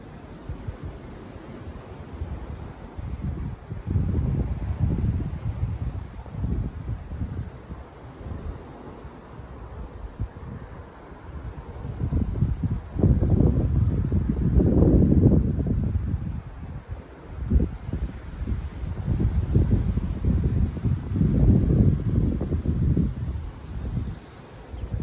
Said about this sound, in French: On entend le rugissement du vent là.